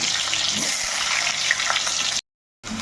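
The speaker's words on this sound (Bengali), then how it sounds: "আলুগুলো এখন তেলের মধ্যে দিয়ে একটু ভালো করে ভেজে নেব।" Diced potatoes fry in mustard oil with a steady, close hiss and crackle that runs unbroken, drops out briefly near the end, then resumes.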